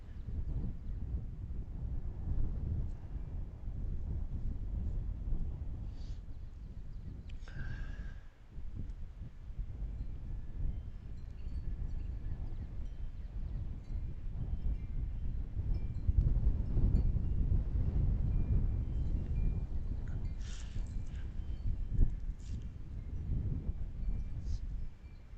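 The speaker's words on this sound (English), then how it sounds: "I don't know if you can hear the wind. It's pretty windy." Steady wind rumble buffeting an outdoor microphone in a backyard in Lancaster County, Pennsylvania, on a gusty April day, low and continuous throughout with a few faint higher chirps and distant noises over it.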